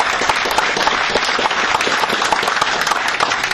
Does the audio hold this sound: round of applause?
yes